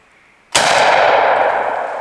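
A Mossberg Shockwave firearm fires one loud, sharp shot close by, the blast ringing and slowly fading over about a second and a half after a quiet lead-in.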